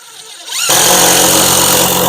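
A cordless power drill drives screws into window clips during a house window installation, spinning up abruptly into a loud, steady whine that holds close and alone.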